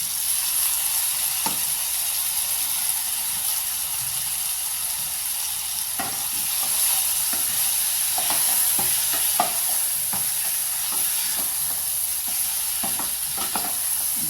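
Brinjal and dried nethili anchovies sizzle steadily in a frying pan, a constant close hiss broken by scattered scraping knocks of a spoon stirring, with no voices.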